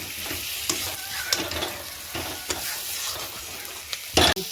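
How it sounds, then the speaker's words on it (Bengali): Potato and pointed gourd fry in a pan with a steady, close sizzle, punctuated by scraping stirs of a spatula throughout, with a louder clatter near the end. "কিছুক্ষণ ধরে আলু পটলটা ভেজে নিয়েছি"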